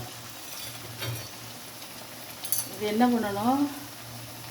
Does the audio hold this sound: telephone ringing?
no